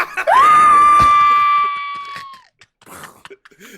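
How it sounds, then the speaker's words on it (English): A single loud, sustained scream rises sharply to a long held high pitch and then cuts off, followed by a few faint scattered sounds. "Scream."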